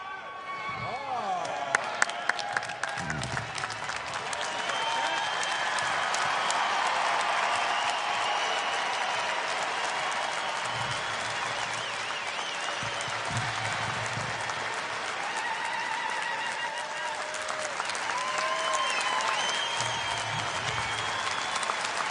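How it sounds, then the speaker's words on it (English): A large arena crowd at a Detroit basketball game gives sustained applause and cheering as a retired number 10 jersey is raised to the rafters. The roar stays dense and steady throughout, with a few sharper claps near the start. "let's hear it one more time for Dennis Rodman"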